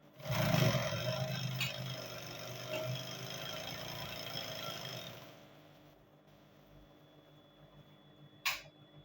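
A sewing machine stitches the bands of a pair of cargo pants, humming with a steady whir for about five seconds before stopping, followed by quiet and then one sharp click near the end.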